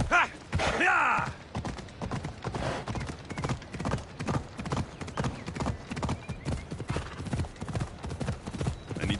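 Horse hooves clip-clop in an Assassin's Creed video game, a steady rapid rhythm of close thuds with a neigh near the start and faint game sounds behind.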